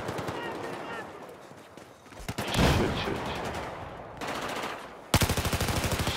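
MG4 light machine gun in Battlefield 4 firing loud, rapid automatic bursts, the last a clear rhythmic string of shots, mixed with other in-game gunfire and someone talking over it.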